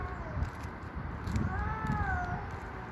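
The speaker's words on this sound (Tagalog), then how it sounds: "Ayan pa, maingay na pusa." Noisy cats meow and yowl outdoors at night past 10 p.m., a few drawn-out wavering cries over a quiet, hissy background.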